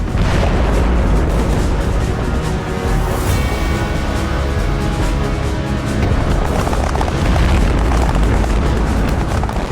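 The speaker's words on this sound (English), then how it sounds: "The final straw is the devastating explosion of an ammunition wagon." An ammunition wagon explodes in a Napoleonic battle scene: a loud, continuous roar of blasts and rumbling booms that stays dense and heavy for nearly ten seconds with no pause.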